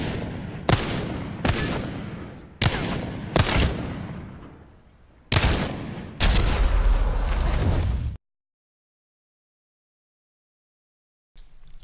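A Wingman revolver in the Apex Legends video game fires six sharp, heavy shots spaced about a second apart, each ringing out and decaying, followed by a sustained blast and then sudden silence before a faint final sound.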